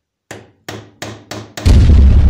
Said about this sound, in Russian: Во-первых, чтобы сверло не гуляло, я накернил.